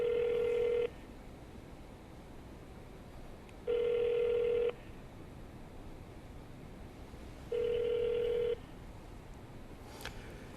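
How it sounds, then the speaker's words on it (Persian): A telephone rings out on a call line, sounding three long, steady ring tones about three seconds apart over a quiet hiss, with no voices. "تلفنشون داره زنگ میزنه."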